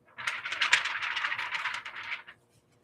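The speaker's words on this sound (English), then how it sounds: "Do you hear how the baffling, the sound gets deeper as the paper gets thicker?" Sheets of 20-pound paper handled and flexed, giving a close, dry rattling rustle for about two seconds that then falls quiet.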